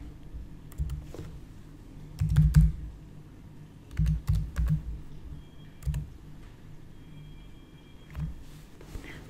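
Typing on a computer keyboard while entering a PAN number into a GST registration form: quiet, scattered key clicks with a few denser bursts of keystrokes, close by, without talk.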